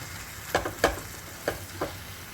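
Mashed brinjal bharit frying in a pan, a steady soft sizzle broken by four spatula scrapes and stirs at irregular intervals.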